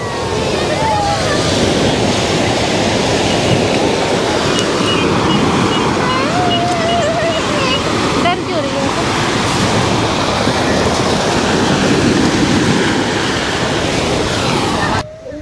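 Sea waves wash onto the shore at Rameshwaram in a loud, continuous surging roar mixed with wind buffeting the microphone, while people talk over it.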